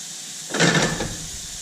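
Shrimp for shrimp pasta hit a hot pan with a sudden loud hiss and sizzle that swells quickly, then settles into a steady, softer frying crackle.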